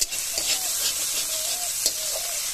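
Bitter gourd frying in a kadai gives a steady close sizzle with occasional stirring scrapes and soft pops.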